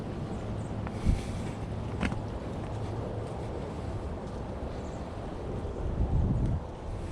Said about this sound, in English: Getting in the wind